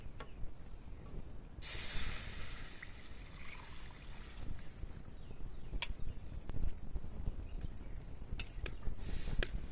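An orange and cornflour mixture is stirred continuously in a wok over medium-low heat, giving a steady soft hiss with scattered clicks and scrapes of the utensil, no voices.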